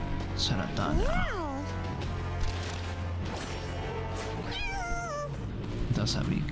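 Cartoonish cat meows from the video game Mewgenics, two rising-and-falling yowls followed by a wavering cry, heard amid game effects, thumps and a busy background, with a person talking over the gameplay.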